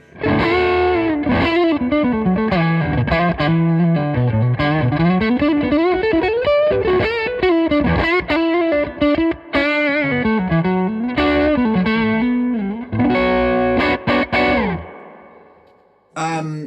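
Electric guitar through a Victory V40 Deluxe amp plays a continuous melodic line with chords, washed in reverb and some grit, loud and close, ending in a brief fading tail.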